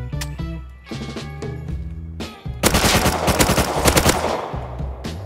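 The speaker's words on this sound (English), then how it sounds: "I then got into another fight against a random AK kid." AK rifle fire in the survival game Rust, a dense loud rapid burst of automatic shots over a droning music or ambience background, preceded by a few scattered shots.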